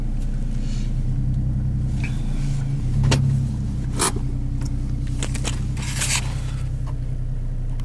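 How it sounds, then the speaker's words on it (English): Cars pull into a gas station, a steady low engine rumble close by with a few sharp clicks and brief scrapes over it, no talking. "Cars are coming."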